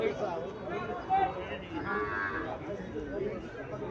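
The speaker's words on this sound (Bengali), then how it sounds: "এখানে আরো একটা গাভী দেখা যাচ্ছে" A Haryana breed cow moos over a steady background of nearby voices and farm noise, one sustained low call standing out briefly through the middle.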